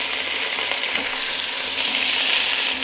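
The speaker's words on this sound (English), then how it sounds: "we're going to just brown this off on a high heat" Beef browns on high heat in about four tablespoons of hot oil in a large pot, a loud, dense, continuous sizzle close up with faint rhythmic scraping underneath.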